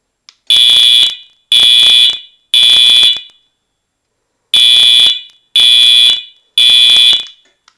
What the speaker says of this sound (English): that sound that you are hearing is an active fire klaxon